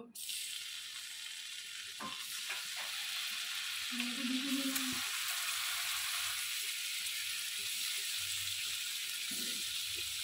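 A steady, broadband sizzle of paneer frying in butter in a hot pan, a few brief clatters and bumps as pieces are added, no talking.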